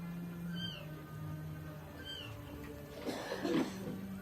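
A cat meows several times, soft and fairly close, with short high cries spaced apart over a quiet background.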